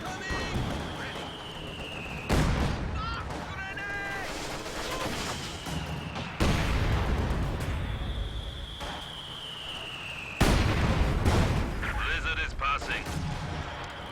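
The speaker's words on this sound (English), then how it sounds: "Heavy mortars continue to blast away in the general area" Heavy mortar fire in Company of Heroes 2, with three loud booming blasts spaced several seconds apart over constant battlefield din, whistling shells and scattered gunfire, while a voice talks throughout.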